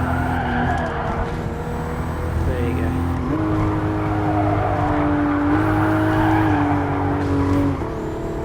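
A 2020 Toyota Supra runs along the Tokyo Expressway in Gran Turismo Sport, its engine droning steadily and loud while the pitch climbs and drops through gear changes, with brief tire squeals.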